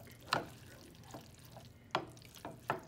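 American goulash stirred in a pot on the stovetop, a few sharp scraping knocks of a spoon against the pot spaced irregularly over soft background noise, close and moderately loud, with no talking.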